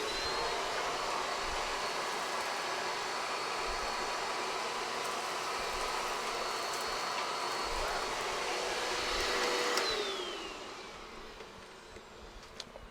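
A Clean Obsessed CO888 canister vacuum cleaner runs on a tile floor with a loud, steady motor roar and airflow rush that dips in pitch and level near the end, with no talk.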